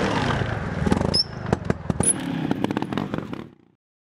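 Trial motorcycle riding up a big rock step, with an engine revving and blipping in sharp bursts, clatter and crackle, close and loud, then cutting off into silence near the end.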